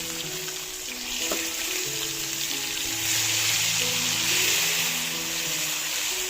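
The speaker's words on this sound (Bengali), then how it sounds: "পানমৌরি, এলাচ, মেটা কাঠ দিয়ে ফোড়ন দিয়ে দিচ্ছি। এবারে দিয়ে দিচ্ছি চাল মগজ" Fennel, cardamom and other whole spices sizzle in hot oil as melon seeds go in. A bright continuous hiss swells midway, with a light clink early on and steady tones running beneath.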